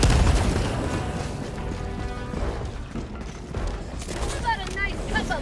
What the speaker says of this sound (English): Oh, that double grenade in there.